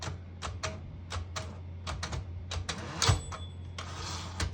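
A 1968 Smith-Corona Super Sterling portable manual typewriter clearing its tab stops, giving a close series of sharp mechanical clicks and clacks at an irregular pace with a faint steady hum underneath.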